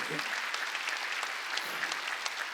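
A church congregation during a Sunday worship service applauds in a brief, fairly soft burst of clapping, many hands pattering together in a roomy space.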